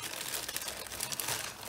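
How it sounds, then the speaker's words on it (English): Plastic wrapping crinkles and rustles as an item stuck to its bag is tugged free, a short close, soft burst of dense crackling. "oh, it's stuck to the bag, sorry about all the plastic"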